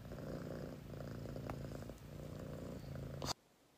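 A cat purrs close to the microphone in a steady, rhythmic rumble that continues without pause before cutting off abruptly near the end.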